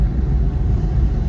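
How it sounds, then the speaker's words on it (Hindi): A tractor approaching along a road near a temple parking area, a steady loud low engine rumble that stays close and constant throughout, with no talk over it. "आगे जरा ट्रैक्टर आ रहा, ट्रैक्टर"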